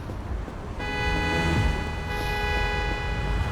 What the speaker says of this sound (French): Là, les voitures klaxonnent.